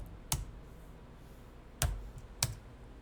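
Three separate computer keyboard key presses, F2 among them, sharp close clicks spaced irregularly over quiet background.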